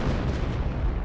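An artillery shell fired into a smoke screen in Company of Heroes lands as a brief, heavy low rumbling boom, loud and close, with no talk.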